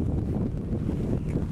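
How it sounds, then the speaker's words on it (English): Steady wind buffets the microphone, a constant low rumbling roar with no pauses and no voices. "It's really windy."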